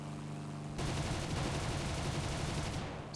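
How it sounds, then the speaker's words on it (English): Sustained rapid aircraft cannon and machine-gun fire in War Thunder, a dense loud burst beginning abruptly after a quiet engine drone and continuing for several seconds with no talk over it. "He's firing at us."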